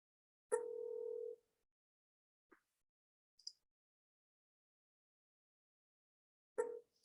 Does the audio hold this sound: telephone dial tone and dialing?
yes